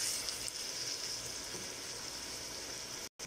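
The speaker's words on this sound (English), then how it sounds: "you want the onions to fry on high heat with the meat for at least 10 minutes" Onions and minced meat frying on high heat in a pan give a steady, soft, broadband sizzle that holds evenly throughout, faint and without talk, with a brief dropout near the end.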